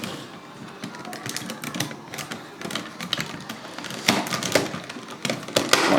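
Plastic parts of a DX Bakurenoh combining toy robot click, snap and rattle as arms fold in and hip pieces swing down, a close, busy stream of sharp clacks and ratchety ticks without speech.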